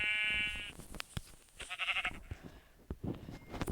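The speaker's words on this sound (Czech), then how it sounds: "Poď sem, ty ovca." A sheep in a video game gives a loud, wavering bleat followed by a second shorter bleat, mixed with footsteps and soft thuds nearby.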